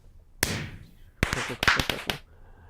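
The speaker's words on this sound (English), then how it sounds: "it will shoot the firework" Firework rocket fired by a hopper contraption in Minecraft: a sharp launch crack with a fading whoosh, then a quick run of crisp pops and cracks, close and moderately loud.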